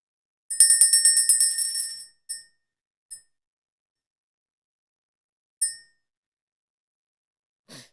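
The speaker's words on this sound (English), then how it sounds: "We're going to ring the bell, clear the energy" A small handheld bell is rung in a quiet room, giving a quick cluster of bright, ringing strikes that fade, followed by a few isolated single chimes spaced apart, close and clear with no talking.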